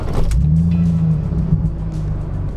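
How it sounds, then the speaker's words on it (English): A BMW convertible's car engine idles nearby after a restart, a steady low rumble with a brief louder rev near the start, running alone without speech. "Maybe I'll just run the engine."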